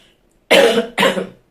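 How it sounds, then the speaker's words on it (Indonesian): A woman coughs twice in quick succession, two harsh close bursts about half a second apart, loud against an otherwise quiet room. "saya berapa hari ini batuk"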